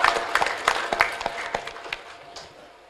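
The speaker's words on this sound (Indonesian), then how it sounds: "Kita beri tepuk tangan untuk anak kelas tajwid biar tidak tegang ya." A small group at an elementary school Quran graduation and open exam claps for the tajwid class children: sharp, uneven hand claps, loud at first, then tapering off and fading within three seconds.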